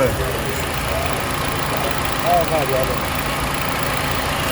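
A 2013 Toyota Camry engine idles steadily with the AC compressor engaged, a constant close rumble and hum throughout, with a faint squeal in the middle.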